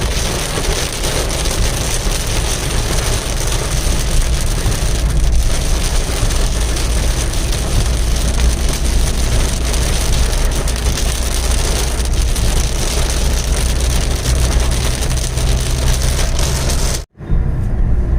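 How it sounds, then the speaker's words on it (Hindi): Heavy rain pours steadily and loudly in South India, a dense continuous broadband roar, cutting off abruptly near the end. "बस अब बरसात शुरू हो गई है।"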